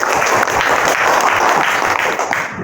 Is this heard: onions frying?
no